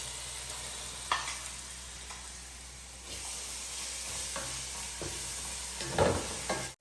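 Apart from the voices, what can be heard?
ginger garlic paste frying with browned onions in a pan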